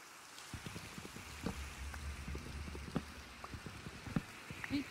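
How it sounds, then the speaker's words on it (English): Rain falls in the Minecraft video game as a soft, steady patter with scattered drops. It stays faint and continuous. "it's raining"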